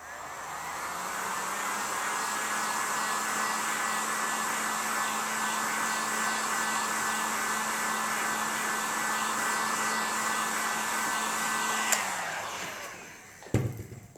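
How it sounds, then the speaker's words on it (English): A heat gun blows a steady, even whoosh of hot air over an ink and chalk transfer on a shirt. It runs at constant strength for about twelve seconds, then winds down and cuts off, followed by a brief clatter. "let's take the heat gun"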